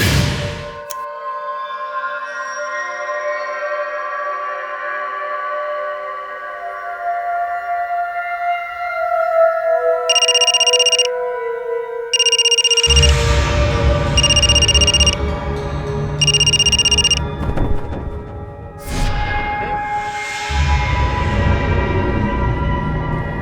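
A mobile phone rings in a crime drama scene, sounding four repeated electronic trilling bursts at a steady rhythm over a tense musical score.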